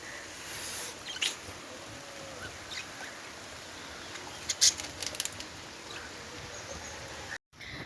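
Steady rain falls over a village, a soft, even hiss that runs throughout, with a few faint bird-like calls and chirps scattered on top.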